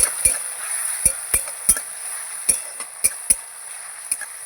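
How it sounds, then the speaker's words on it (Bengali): Crushed garlic and green chillies stirred in a pan, a spoon or spatula knocking and scraping against the metal in a series of sharp, irregular taps over a soft frying hiss. "এই রসুনটা থেতো করে রেখেছিলাম দিয়ে দেবো আমি ভালো করে নাড়িয়ে নেব"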